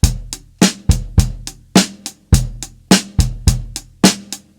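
A drum kit plays a steady rock beat for a song, with alternating kick and snare hits and a repeating rhythm of punchy, close, loud strikes.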